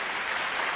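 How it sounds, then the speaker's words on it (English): Audience applause welcomes a speaker to the dais at an education awards summit, a dense, steady wash of clapping that holds at an even level through the whole short moment with no talk over it. "Let's all welcome him with a thunderous applause."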